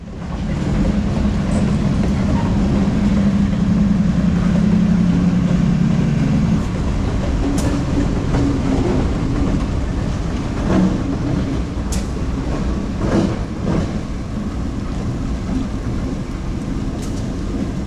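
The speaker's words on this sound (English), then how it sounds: "the orange puke-painted B39 on the rear of CT2 passes the SoNo Switch Tower Museum and disappears out of frame into the dark, rainy, and stormy night" A commuter train with a B39 locomotive on the rear rumbles steadily past a switch tower on a rainy, stormy night, a loud continuous roar with rain and clanks over it for the whole stretch.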